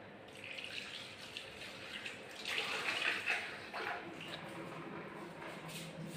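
Peeled moong dal is washed in a bowl of water by hand, soft sloshing and swirling that swells briefly in the middle before settling back to quiet splashes.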